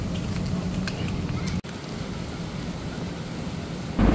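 Steady rain hisses and patters throughout, heard from a train travelling between Dhaka and Rajshahi on the Dhumketu Express in cloudy, cool, windy weather, with a brief dropout partway and a slight swell at the end.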